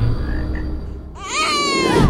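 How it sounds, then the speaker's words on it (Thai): After a quiet, rumbling first half, a baby suddenly bursts into loud, wavering wails that carry on to the end. "เสียงร้องของเด็กน้อยก็ดังขึ้น"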